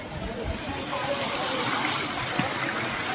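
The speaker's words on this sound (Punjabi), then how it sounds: "ਆ ਪਾਣੀ ਆ ਰਿਹਾ ਇਧਰ" Fast-flowing flood water rushes in a steady, broadband roar close by near a village in Hoshiarpur district, Punjab, with a faint voice briefly audible beneath the churning flow.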